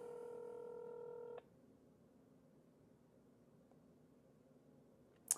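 An Apple Watch Series 3 placing a phone call gives a short steady electronic ringback tone, then quiet line hiss and a brief faint blip at the end.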